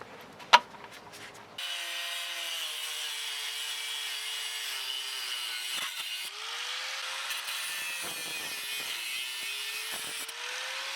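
A power grinder works on a 2010 Ford Edge sway bar, a sharp click followed by a loud, continuous metallic whine that dips and shifts pitch as it bites, running steadily to the end.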